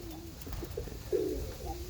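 Birmingham roller pigeons in a loft give a few soft, low coos over a steady background hum, with one fuller, louder coo near the middle.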